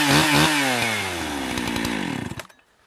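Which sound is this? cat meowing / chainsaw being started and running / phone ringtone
chainsaw being started and running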